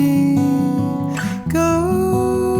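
Guitar playing the pre-chorus of a song, a steady picked pattern with ringing notes and a brief break near the middle, loud and close, with no talking.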